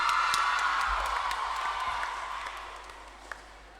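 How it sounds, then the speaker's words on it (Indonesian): An audience at a school science quiz final gives a short burst of applause and cheering for a competing team, loud at first and then tapering off. "Kita berikan tepuk tangan."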